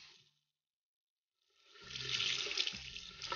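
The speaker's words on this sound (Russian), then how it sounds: "вам уже дали горячую воду" Hot water gushes from a tap after a brief silence, swelling into a steady, close hiss and splash that keeps running to the end.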